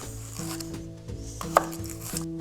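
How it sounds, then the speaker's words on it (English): A knife cuts celery into strips on a cutting board, making a few separate close taps with pauses between them, one sharper knock standing out. "I'm going to slice up our celery here and cut the ends off."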